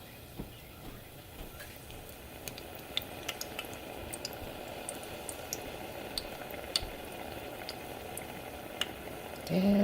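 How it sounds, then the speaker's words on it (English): Rosette batter on an iron sizzles and bubbles steadily in hot frying oil, a dense, even crackle with faint scattered pops, heard alone and close. "And it's frying away."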